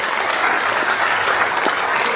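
Concert audience applauding a young vocalist at a solo concert, a dense, even roar of many hands clapping throughout without a break.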